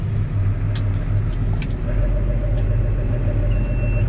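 A tractor reversing in a grassy field, its engine giving a loud, steady low drone with a faint rising whine, close and continuous.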